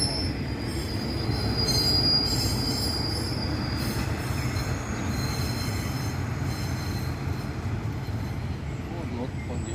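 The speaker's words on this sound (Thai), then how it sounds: "ขบวนรถที่เข้าสถานีชุมพรเป็นขบวนรถที่ 39 เป็นขบวนรถด่วนพิเศษ" Special express train number 39 pulling into Chumphon station in Thailand, its wheels letting out a long high metallic squeal over a continuous heavy rumble of rolling railcars, loud and close, with a voice talking underneath.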